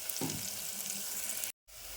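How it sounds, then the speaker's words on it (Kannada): Onions and green chillies fry in a pan with a steady, close hissing sizzle that cuts out abruptly near the end, then resumes briefly. "ಉಳ್ಳಾಗಡ್ಡಿ ಮೆಣಸಿನ್ಕಾಯಿ ಎಲ್ಲ ಫ್ರೈ ನೋಡ್ರಿ"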